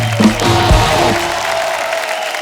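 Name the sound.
applause for Gayatri and Pushkar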